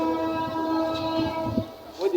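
A train at Cox's Bazar railway station gives a steady, close rumble with drawn-out horn-like tones sounding over it, and faint voices come through in the background.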